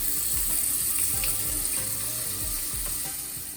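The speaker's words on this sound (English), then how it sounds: "Before we serve, let's wash our hands." Tap water runs steadily into a sink while hands are washed under it, a constant close hiss with faint splashing and no talk.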